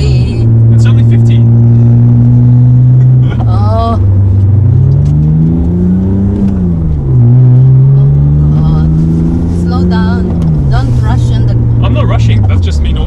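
A V6-swapped Toyota MR2 is heard from inside while driving, its loud engine droning and rising as it accelerates, with pitch swells and dips from gear changes, while people talk and exclaim over it.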